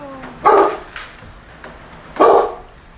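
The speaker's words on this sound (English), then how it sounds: "What are you barking at?" Two loud, sharp dog barks spaced about two seconds apart, close by, with quiet background between them.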